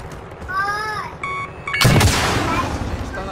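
A loud in-game explosion from Call of Duty: Warzone erupts partway through, a broad booming blast with a rumbling tail over a busy game soundscape, with a voice talking near it.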